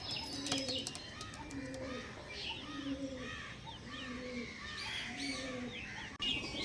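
A female Malbahi pigeon coos close by in a repeated series of soft, low, rolling calls at a steady rhythm, with faint chirps and light background noise around them.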